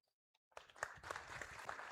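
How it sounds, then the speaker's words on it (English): Applause at a high school football media day, starting after a near-silent moment and rising quickly into steady clapping from a small gathered crowd, fairly quiet overall. "I do want to give a round of applause for Antoine and EJ."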